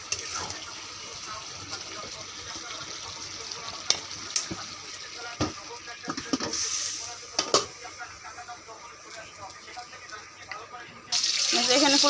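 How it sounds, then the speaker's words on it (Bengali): Polao rice being fried for biryani in a pan, a soft steady sizzle running the whole time with occasional clinks and stirring scrapes, growing louder and brighter near the end. "এখানে পোলাও চালটি ভেজে নিব আমি"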